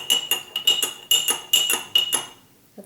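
A small amount of paint is stirred in a jar, giving a run of sharp, clinking taps of tool against glass in an uneven rhythm, close and fairly loud.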